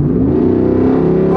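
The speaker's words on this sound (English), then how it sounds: "You got a Jeep with this big old V8 engine, man." A Jeep fitted with a big V8 engine revs up as the gas is pressed, a loud, steady, close engine roar that climbs in pitch toward the end.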